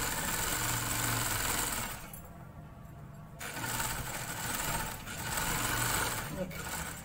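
Sewing machine stitching a box pleat on a trouser hem, a close, loud mechanical whir that stops briefly and starts again in bursts, with someone talking over it.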